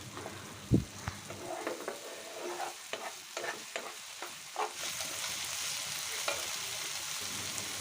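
Ginger garlic paste fries with softened tomato for a chickpea curry, with a thump, then repeated scraping stirs in the pan over a gentle sizzle that grows steadier and louder toward the end.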